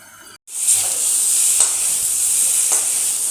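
Chickpeas and mung dal frying in a pan over a low flame give a steady, close hiss and sizzle, broken once early by a brief drop-out, with a couple of faint stirring scrapes and no voices.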